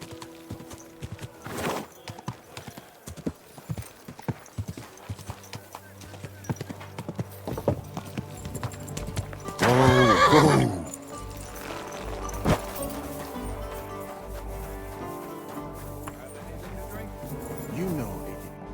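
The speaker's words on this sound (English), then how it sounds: "Easy, good horse." Horse hooves clip-clop at a steady walk in the medieval game Kingdom Come Deliverance 2, joined midway by a loud, close neigh, with speech heard around the hoofbeats.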